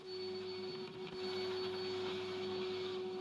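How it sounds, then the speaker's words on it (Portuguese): A vacuum cleaner hums steadily while sucking up MDF sanding dust from a board's recessed edge, a loud continuous whine with a tonal drone and a brief dip midway, no talking. "Após lixar o rebaixo da placa, podemos limpar tudo com aspirador."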